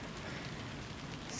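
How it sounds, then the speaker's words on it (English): Freezing rain mixed with sleet falls steadily as a soft, even hiss with a dense patter of drops, faint and unbroken, with no voices. "it is like a little bit of freezing rain mixed with maybe like some sleet"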